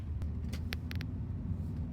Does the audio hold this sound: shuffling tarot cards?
no